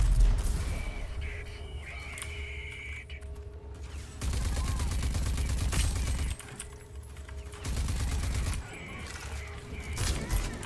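Gunfire from a weapon in the Rage 2 shooter game, heard as bursts of rapid shots in several blocks, loud and fairly close, with game ambience between them and no talk over it.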